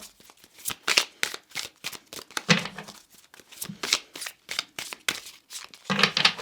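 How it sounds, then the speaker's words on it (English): Tarot cards being shuffled by hand, a quick series of crisp riffling and slapping bursts in an irregular rhythm, close and fairly loud with no talking. "let's just shuffle a little bit."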